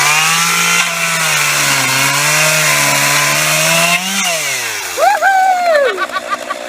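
A chainsaw runs loud and close, its engine droning steadily at first before revving up and down in uneven bursts near the end.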